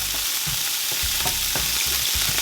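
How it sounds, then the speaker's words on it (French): Garlic frying in oil in a pan for a skate wing dish, a loud continuous sizzle broken by regular soft scraping stirs, with no voices. "vous ajoutez l'ail. Hop, ça sent déjà très bon. L'ail va revenir un tout petit peu, gentiment."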